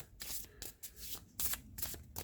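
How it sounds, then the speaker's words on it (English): A deck of cards shuffled up close in several quick riffling bursts, each a crisp, papery flutter separated by brief pauses, with no voices. "Can you hear me shuffling the cards?"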